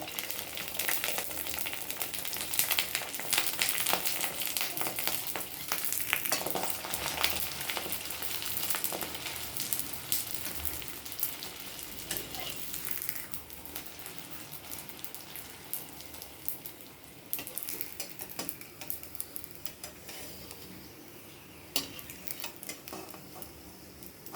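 Papad frying in hot oil: a steady, fairly loud sizzle and crackle with scattered sharp pops, continuous throughout and no talking.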